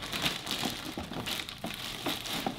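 A clear plastic bag crinkles and crunches in close, irregular bursts, quiet and without talk.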